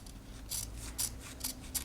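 Scissors cut back sewing interfacing in a bolero front lining, four quick, close, crisp snips in an otherwise quiet room.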